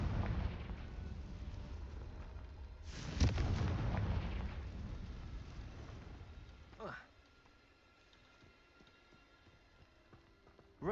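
A Confringo blasting spell in Hogwarts Legacy lets off a loud burst around the middle over rumbling background noise, with a sharper crack near the end.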